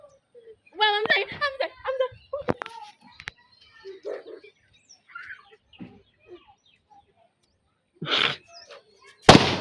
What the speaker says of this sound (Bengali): বম ফুটতেছে